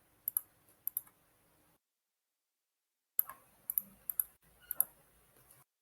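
Computer keyboard keys pressed for a Ctrl+D shortcut, a few crisp close clicks in two small clusters separated by silence, quiet and alone.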